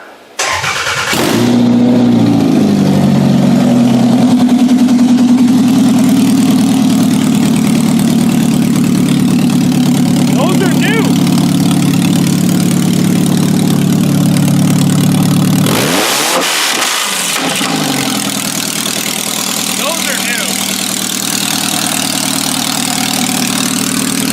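Car engine fitted with new Camry headers cranks and fires, settling into a loud steady idle nearby, with a brief blip or disturbance about two-thirds through before idling on.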